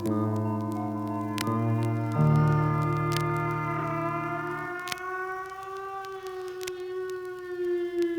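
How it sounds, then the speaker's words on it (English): Eerie wailing banshee sound effect, a sustained siren-like tone that slides and drifts in pitch over several seconds, loud and continuous with no voices. "The baleful banshee, pale and worn, frail and haggard, long forlorn, wails from midnight until morn"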